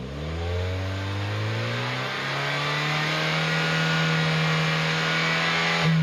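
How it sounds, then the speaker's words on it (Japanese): A car engine revs up during a close-proximity exhaust noise measurement and holds a loud, steady high drone up close, rising in pitch before settling into a sustained roar. "近接排気騒音の測定に入ります。"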